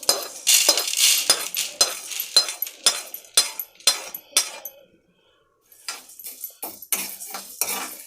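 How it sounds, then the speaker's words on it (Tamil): Spices for idli podi dry roasting in a pan without oil, with a steady run of scraping and clinking strokes from a spoon against the metal, a brief quiet pause midway, then more stirring clatter. "எண்ணெய் இல்லாமல் நல்லா வணக்கணும்."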